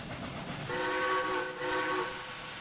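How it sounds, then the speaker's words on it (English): A steam locomotive whistle blown in a train simulator game on the Mattapoisett Peninsula Railway, two sustained harmonic blasts of about a second each, the second following a brief dip, loud and clear with no talk over it. "I just wanted to blow the whistle there."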